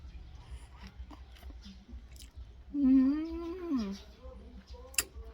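Close, wet chewing and biting into wild honeycomb, with a louder stretch of crunching and squishy mouth noises in the middle, then a sharp click near the end.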